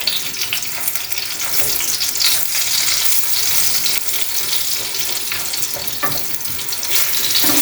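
Eggplant fries in a pan with a loud, continuous close sizzle and crackling spatter, steady throughout with occasional sharper pops.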